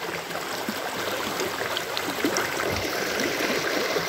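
A river stream in rural Nepal flows and rushes steadily, a constant close wash of water with small splashes and gurgles, and no talk.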